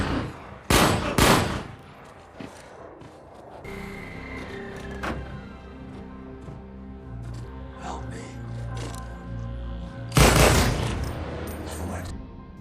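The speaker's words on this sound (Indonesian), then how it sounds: "Connor berhasil menembak mati JJ dan si Reyes akhirnya koit ditembak mati oleh Hobbs." Gunfire from a Fast & Furious film scene: several loud, sharp bursts of shots near the start and again toward the end, with a tense music score and effects rumbling in between.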